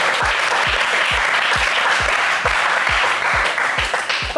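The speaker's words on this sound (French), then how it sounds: "Vous, on va vous applaudir." Studio audience on a French TV game show applauding a departing contestant; loud, continuous clapping with a steady rhythmic beat running underneath throughout.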